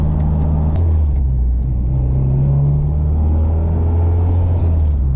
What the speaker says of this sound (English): Driving my car.